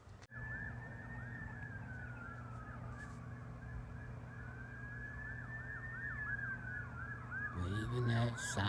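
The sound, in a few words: emergency vehicle sirens in the distance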